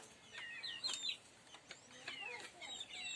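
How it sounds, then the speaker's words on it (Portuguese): A small flock of common hens, one black, one white and one brooding, with chicks nearby, cluck and chirp in short close bursts against a quiet background. "E agora eu só tô com 3 galinhas comuns, essa preta, a branca lá e a outra chocando."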